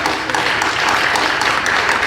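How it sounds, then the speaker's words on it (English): Audience applause at a freedom-of-information summit for state coalition presenters, a dense, steady wash of many hands clapping throughout with distinct individual claps standing out. "you need to give yourself an applause for what you all are doing"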